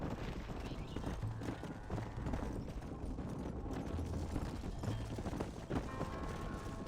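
Horses' hooves clip-clop steadily in a Red Dead Redemption game scene as riders bring animals into a pen, a dense rhythmic clatter running throughout at close range, with a voice talking over it.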